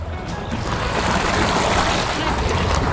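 Water rushes in a steady, loud, broadband gush in open farmland countryside, wind buffeting the microphone alongside it, with no clear talking.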